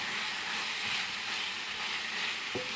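Leeks frying in a pan give a steady, close sizzle and hiss throughout, with one brief clink near the end.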